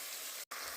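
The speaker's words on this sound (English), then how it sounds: "Listen to that sizzle." Beef sears in a hot pot with a close, steady sizzling hiss, cut by a very brief gap partway through.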